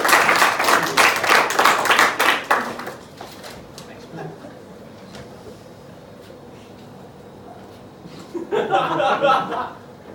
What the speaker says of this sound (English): can we give Simon a round of applause